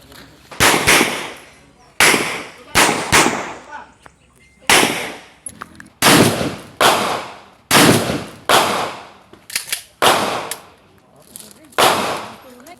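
Shotgun blasts at an outdoor firing range ring out in a series of about ten loud, close reports, some in quick pairs, each with a short decaying echo and brief quiet between shots.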